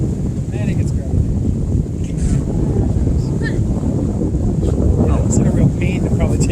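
Wind buffets the microphone in a steady, loud roar while out sailing on the Pamlico Sound in the Outer Banks, with faint voices and small knocks in the background.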